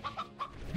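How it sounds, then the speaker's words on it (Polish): Chickens and roosters in the Slime Rancher video game give a few short, close clucks in quick succession, followed by a brief rising squawk at the end. "Super, zostawimy jednego koguta."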